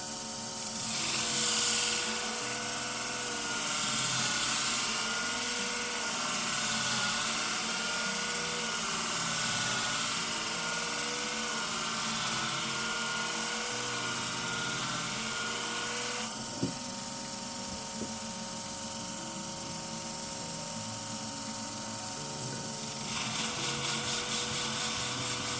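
A sharpening machine convexes the blade of curved grooming shears set in a Katoku guiding system, giving a steady, loud mechanical whir with a rhythmic grinding undertone that pulses as the blade passes, continuous throughout.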